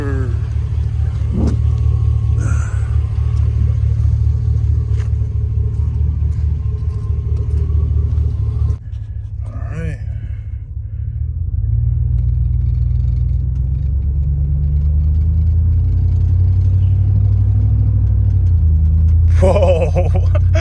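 A car with a freshly rebuilt 4L60E automatic transmission drives along a road, its steady low engine rumble and road noise continuous and close, with brief revving swells and a dip near the middle.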